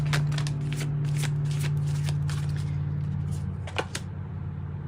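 A deck of oracle cards is shuffled close by in a series of quick papery riffles over a low steady hum. The shuffling eases off toward the end.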